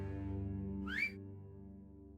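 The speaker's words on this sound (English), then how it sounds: "What was that weak-ass fucking whistle?" A short rising whistle calls a horse in the video game Tainted Grail: The Fall of Avalon, one brief two-note chirp over a steady, droning game backdrop.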